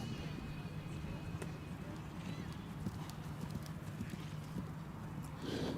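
Horses canter around a main show arena, their hoofbeats a steady, moderately distant thudding rhythm, while a person speaks over the sound.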